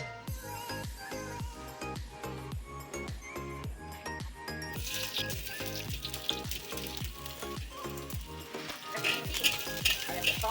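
Onion frying in a pan for a devil's curry, a steady close sizzle broken by regular clinks and scrapes of a utensil against the pan, with the frying growing brighter and louder partway through.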